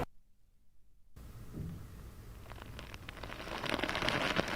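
Heavy rain from Cyclone Yaas pours down in Chandipur, Odisha, as a steady dense hiss. It swells louder, with scattered drop impacts, after a moment of near silence at the start.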